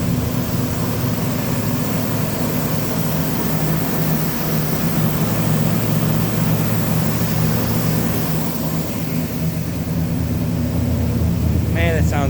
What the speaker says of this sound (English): that's what that cammed V6 sounds like